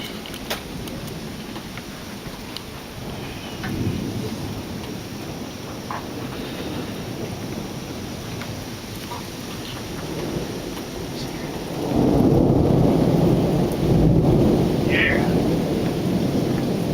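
A summer thunderstorm in South Bend, Indiana: steady rain hisses throughout while rolling thunder swells loudly near the end, with people chatting faintly in the background.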